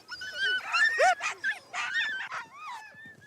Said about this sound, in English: Salu has around 30 dogs.